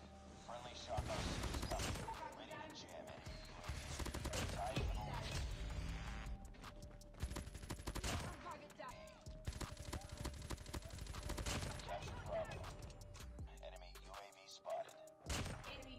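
Rapid bursts of Peacekeeper assault rifle fire in Call of Duty Mobile, repeated volleys of gunshots at close range with thuds and game effects between them, fairly loud and continuous.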